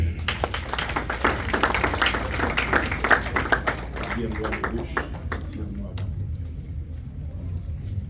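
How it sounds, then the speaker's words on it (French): A wedding congregation in a church claps loudly and steadily for several seconds, a dense wash of applause mixed with voices and room rumble, fading to quieter crowd murmur near the end. "Applaudissons le Seigneur."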